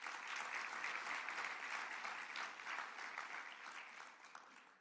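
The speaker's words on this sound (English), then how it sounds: "Please give them a round of applause." Audience applause at the Super Bowl LX welcome press conference, a steady wash of many hands clapping that carries on for about five seconds at moderate level and fades slightly toward the end, with no voices over it.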